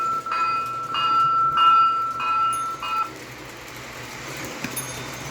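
A model train's small bell on a Christmas basement layout rings in a steady series of about five clear dings, then stops, leaving quiet mechanical hum and a few soft clicks.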